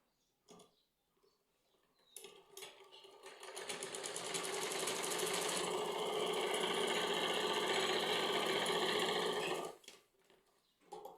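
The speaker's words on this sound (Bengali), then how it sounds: "তাহলে যে কোনো একদিকে সেলাই করে নিব।" A sewing machine runs a seam along one side of fabric, starting with a few short clicks and bursts, then whirring continuously and close for several seconds before stopping abruptly.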